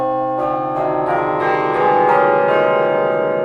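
A minor scale rings out on tuned bells, a series of loud struck bell tones one after another with long overlapping resonant hums and shimmering overtones, heard alone without talk.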